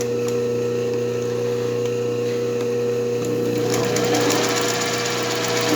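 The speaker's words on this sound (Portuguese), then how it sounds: "Eu começo com uma costurinha reta em toda a extensão do meu trabalho." A sewing machine runs a straight stitch in red thread across fabric for Richelieu embroidery, a loud, fast, steady mechanical rattle that holds throughout and grows a bit busier toward the end.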